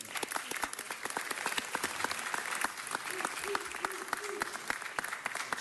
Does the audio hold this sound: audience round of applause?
yes